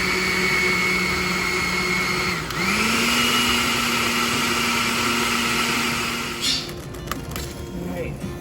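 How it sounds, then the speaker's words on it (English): A kitchen blender runs on boiled plum sauce for a sweet-savory spicy sauce, a loud continuous whirring drone that shifts pitch partway through as the contents loosen, then winds down near the end with a few clatters. "We're gonna throw it in the blender till it becomes liquid style"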